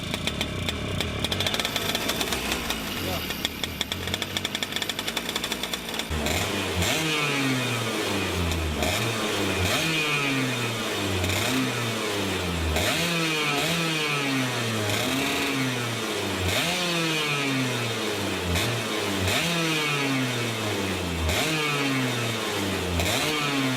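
A racing kart engine starts up and revs repeatedly, a loud, close, raspy two-stroke buzz climbing and dropping in pitch in a steady rhythm of blips after a rough start.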